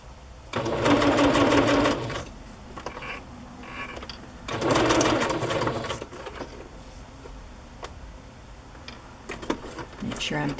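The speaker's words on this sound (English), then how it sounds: "I'm going to start sewing on the cheesecloth and then go around." Sewing machine stitching cheesecloth onto a card tag in two loud, close bursts of rapid needle clatter, separated by quieter handling noises and small clicks.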